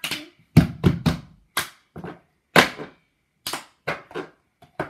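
A cup song rhythm played on a table, sharp claps alternating with hollow plastic cup hits and taps in distinct spaced bursts, close and crisp with silence between strokes.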